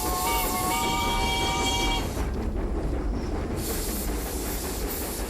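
Steam locomotive on a restored railway in Perus, São Paulo, a loud continuous rumble and hiss with a sustained whistle blast at the start, then rolling mechanical noise.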